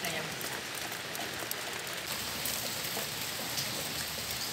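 Steady rain falls during a mushroom harvest, a dense, even hiss of drops on surfaces, fairly close and continuous throughout.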